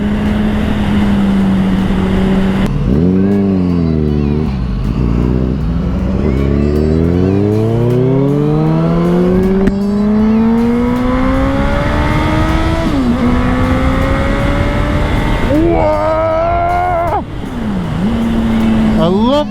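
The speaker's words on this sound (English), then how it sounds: "I love the sound of this bike, man." A motorcycle engine revs loudly and close, pitch climbing through repeated sweeps as it accelerates and shifts, with a rider's voice and road noise mixed in.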